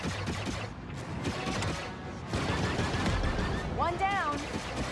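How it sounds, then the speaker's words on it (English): Turret gunfire in The Division 2, rapid bursts of shots with mechanical clatter and a sweeping electronic whine, loud and close through a busy game mix. "Turret activated"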